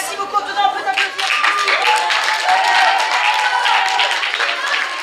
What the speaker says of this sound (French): Dedans, on peut t'applaudir.